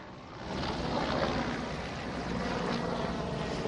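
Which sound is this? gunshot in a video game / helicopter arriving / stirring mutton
helicopter arriving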